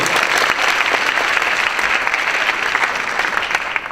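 An audience applauds at a school graduation ceremony, with dense, steady clapping from a large crowd lasting several seconds, fairly loud and continuous with no talk.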